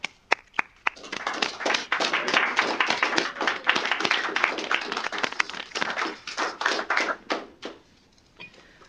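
An audience applauds recipients of the AFRL 2020 Science and Engineering Early Career Award at a fellows induction ceremony, a few scattered claps building into steady sustained clapping that fades out near the end.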